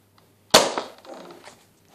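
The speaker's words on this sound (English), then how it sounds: "Now look. And listen how powerful this gun is." A modded Nerf Fire Strike Elite blaster fires a single sharp, close snap followed by a short rattling decay, with no talking.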